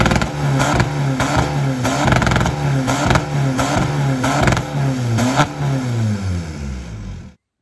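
A Volkswagen Golf 4 with a 1.9 TDI diesel tuned to 250 hp revs repeatedly through a custom exhaust, loud close engine bursts rising and falling several times before cutting off abruptly.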